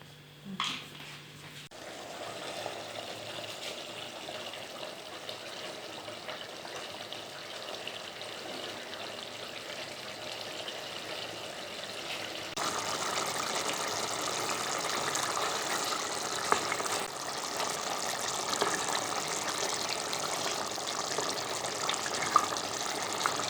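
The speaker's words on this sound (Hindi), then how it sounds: "थोड़ा सा पानी डाल दें।" Water is poured into a pan of chicken karahi being cooked at home, a steady rushing gush that runs throughout and grows louder partway through, with no talk.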